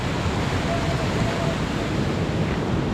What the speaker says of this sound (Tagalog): Ito pala guys yung tinatawag namin dito sa amin na Limpungan Falls